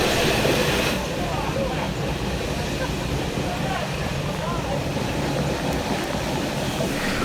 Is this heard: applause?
no